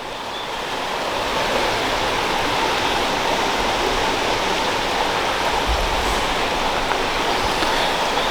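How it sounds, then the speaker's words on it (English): Clear river water rushes steadily past a mossy wall near the coast after heavy rain, a loud, continuous broadband roar without pauses or voices. "the river here is running very, very clear"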